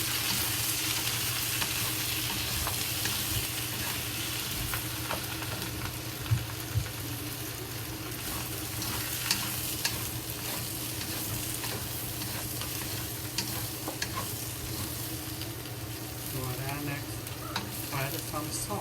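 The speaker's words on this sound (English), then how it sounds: "And fry it." Cabbage with bacon and whole cumin frying in a wok over high heat, a continuous close sizzle with regular stirring scrapes and occasional clanks.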